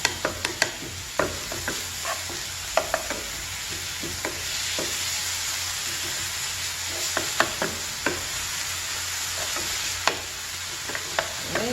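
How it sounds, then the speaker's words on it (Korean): A wide wooden spatula stir-fries and breaks up ingredients for royal-court tteokbokki in a culinary class kitchen: a steady hiss of sizzling with scattered scraping taps against the pan, close and without talk. "이런 넓적한 나무 주걱으로 부셔가면서 볶아주세요"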